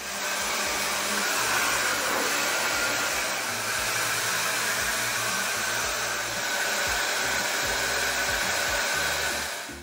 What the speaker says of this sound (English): So what I'm gonna do is I'm gonna diffuse it a little bit.